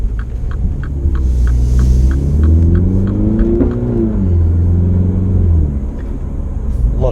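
A 2016 MINI 5-door John Cooper Works, Carbon Edition, accelerates with a loud, deep engine hum that climbs steadily in pitch, drops briefly at a gear change and climbs again, heard from inside the cabin.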